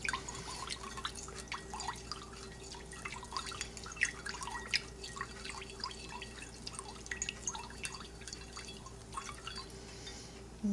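Melted lotion bar mixture with anise seed oil is stirred in a container, giving a steady patter of small clinks and liquid ticks, close by and fairly quiet, with no talk.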